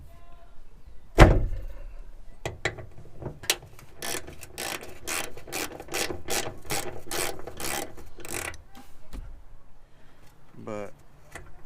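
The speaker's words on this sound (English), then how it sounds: "these are two 12mm bolts that we're just gonna" A wrench works two 12mm bolts loose on a 2nd-gen Toyota Tacoma, giving a sharp crack followed by a long run of rapid rhythmic ratcheting clicks, close and fairly loud.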